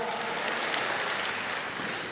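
Church congregation applauding during a sermon, a steady dense wash of many hands clapping at once, fairly loud and sustained throughout with no break.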